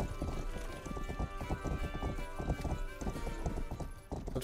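Horse hooves clip-clop steadily in the Western game Rustler, a busy rhythmic run of close, loud hoofbeats with an occasional whinny.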